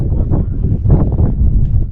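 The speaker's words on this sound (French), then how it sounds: "là, il y a un bon vent de face." A strong headwind gusts at a mountain paragliding launch site, buffeting the microphone with loud, continuous low rumbling that swells and eases throughout.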